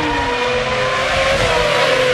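Formula 1 race car engine on Mark Webber's car at the 2006 Malaysian Grand Prix, a loud steady high-pitched whine with slowly shifting pitch that runs throughout, with no talk.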